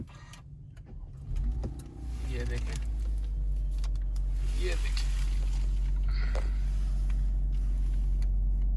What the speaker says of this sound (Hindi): आपको इस गाड़ी का स्टार्टअप चेक कराते हैं, चेक करें।